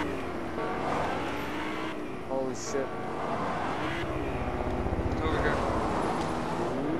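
A helicopter in the Fortnite video game roars steadily overhead, its engine drone and blade throb filling the whole stretch beneath excited voices.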